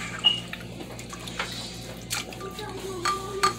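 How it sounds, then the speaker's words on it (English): A spatula stirring barbecue nuggets and pineapple rice in a pan, giving a few soft scrapes and light clinks spaced irregularly over a quiet kitchen hum. "Take my spatula, throw it, stir it around in there."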